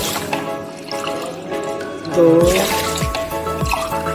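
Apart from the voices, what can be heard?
water poured by cup into pan of sugar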